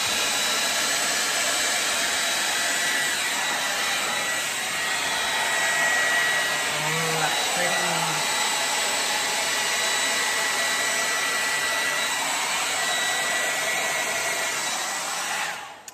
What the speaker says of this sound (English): it was very tricky trying to figure out which way to blow the paint